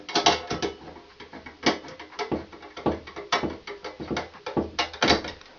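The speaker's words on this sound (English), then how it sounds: "I'm going to take a Klein 5/16 nut driver and tighten that down." A Klein 5/16 nut driver tightens a wire connection in a two-gang switch box, making a string of close, uneven clicks and ratcheting metallic scrapes in short bursts with no one talking.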